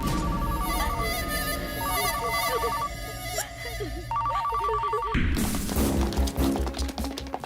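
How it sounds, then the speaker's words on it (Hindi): A telephone rings in repeated bursts amid tense dramatic music and scuffling noises, followed by a loud crash and commotion. "फोन उठा, फोन उठा।"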